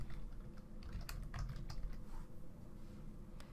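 Quick irregular key clicks on a computer keyboard as a name is typed, soft and close, pattering for a few seconds with no voices.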